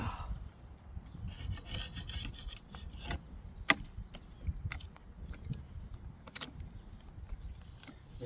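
A screwdriver scrapes clogged dirt off garden tiller tines in short, uneven rasping strokes with occasional sharp metallic clinks, fairly quiet and close, with no talking.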